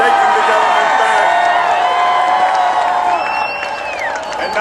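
A huge crowd at an Arnold Schwarzenegger election rally in Sacramento roars steadily, a dense wash of cheering and shouting that stays loud and close throughout, with whistles and whoops rising near the end.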